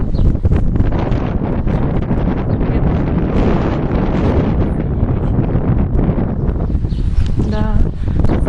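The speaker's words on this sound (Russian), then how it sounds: "То, что ветер сегодня сильный, уже все выдуло" Strong wind in a Russian village by a stormy sea, buffeting the microphone with loud, constant roaring gusts and rustling, plus a brief knocking near the end.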